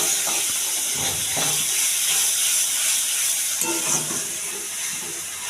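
Catla fish fat cooks in a pan with turmeric and salt while being stirred, a steady close hiss and sizzle broken by a few soft scraping stirs.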